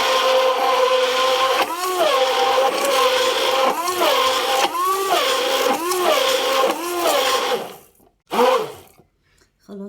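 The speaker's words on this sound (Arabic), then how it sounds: "بترفعي عندك الهاند بلندر بالطريقه دي" A hand blender whirs through thickening homemade mayonnaise, a loud, continuous motor whine that dips rhythmically about every second as it is lifted and pushed, then stops briefly, restarts and cuts off.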